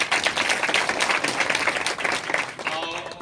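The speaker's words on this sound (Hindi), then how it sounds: "जोरदार खा ताली हो" Audience applause at a village kirtan gathering in India, dense clapping that rises and continues for several seconds, with a voice speaking over it.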